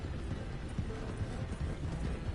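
Hooves of a donkey in Red Dead Redemption 2 clip-clop in a steady walking rhythm, moderately near and partly masked by a dense rumble of ambient game noise.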